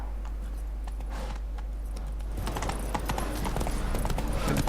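Geralt's horse Roach galloping in The Witcher 3, rapid rhythmic hoofbeats that grow louder and busier, over a steady low hum.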